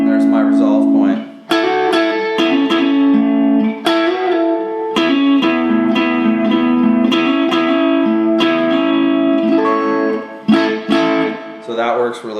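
Electric guitar rhythm riff, loud and close, with repeated plucked chord stabs and a hammer-on into the third resolving between short pauses.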